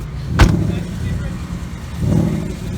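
A 2019 Ford Mustang Bullitt revs briefly with its exhaust in normal mode, a low rumble rising once near the end, with a sharp knock early on and a voice speaking.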